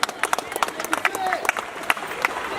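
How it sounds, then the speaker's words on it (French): Audience at a school bench handover ceremony at Ango Ango school in Bandal, Kinshasa, clapping in scattered, uneven claps that stand out clearly over a steady background murmur. "Applaudissez pour vous-même."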